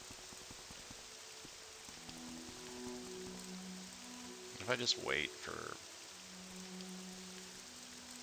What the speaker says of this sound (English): Just sit here in the rain on this staircase for 10 hours.